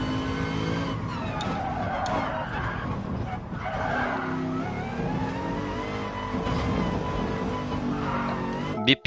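Tyres screeching as a car drifts sideways in Gran Turismo Sport, with a steady engine drone and sustained skid squeal throughout, loud and continuous.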